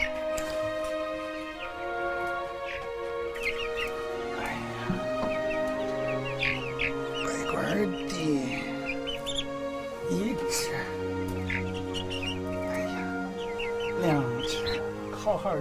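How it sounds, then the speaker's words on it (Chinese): Chickens and chicks in a rural farmyard coop give a steady mix of clucks and high peeping chirps throughout, loud and close, with people talking over them. "快把这小鸡儿引进来"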